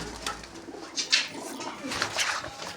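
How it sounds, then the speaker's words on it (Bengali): White pigeons at a market stand cooing, with faint soft coos rising a few times over a noisy outdoor background, no talking. "এই সাদা পায়রাটা দেখছেন"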